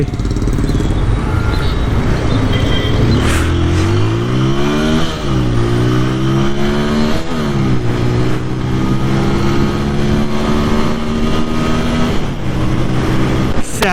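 A 2025 TVS Apache RTR 200 4V motorcycle is ridden hard, its engine note rising through repeated revving and gear changes, loud and close throughout with steady wind noise.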